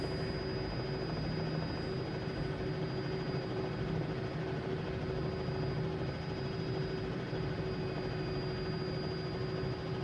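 Cowan Sim R66 helicopter in Flight Simulator 2020, a steady turbine whine with a constant rotor and engine drone, loud and unbroken throughout with no talking.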